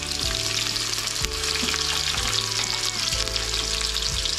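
Onion, green chili and whole spices fry in oil for a vegetable pulao, a loud continuous sizzle broken by regular stirring strokes roughly every second, with no voices.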